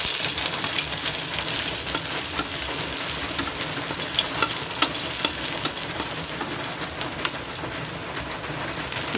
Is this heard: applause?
no